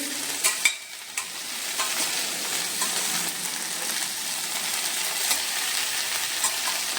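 Cumin and carom seeds roasting in a pan over low heat, giving a steady soft sizzle with light scraping as they are stirred, close and without talk.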